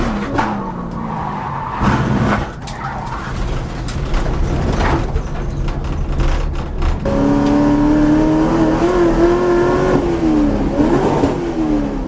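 Race car pushed hard on hot laps at a track, engine revving loud and close through gear changes, tires squealing in long sustained notes through the second half.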